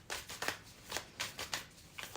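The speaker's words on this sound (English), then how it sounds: "I am shuffling and I've been using this, but the entire back row is swords." A deck of tarot cards is shuffled close by in soft, papery riffles, about half a dozen quick bursts in a loose rhythm, quiet, with no talking.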